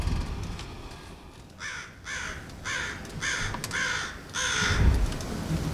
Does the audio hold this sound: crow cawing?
yes